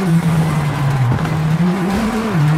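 A WRC 8 rally car brakes hard on a gravel stage, a steady engine drone wavering as the tires squeal and skid, close and loud throughout.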